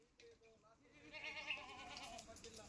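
A Kathewadi goat bleats in a drawn-out, wavering call that swells midway, heard at moderate distance, with a person talking faintly in the background.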